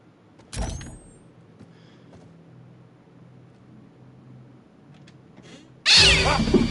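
After a quiet, muffled stretch with a faint knock early on, a cat lets out a sudden loud, harsh screech near the end in the horror video game The Devil in Me.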